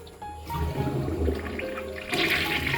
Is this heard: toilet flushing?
yes